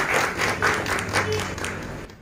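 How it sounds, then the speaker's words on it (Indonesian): Audience clapping at a village cooperative launch ceremony, a short burst of hand claps from a gathered crowd that fades out toward the end, with some voices mixed in. "kita aplaus dulu. Tepukan."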